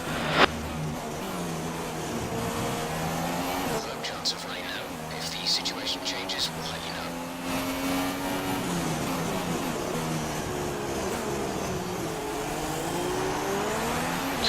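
F1 race car from the F1 2016 video game lapping the Japanese Grand Prix circuit cautiously, a steady high engine whine shifting through gears with brief tire noise, under continuous talk.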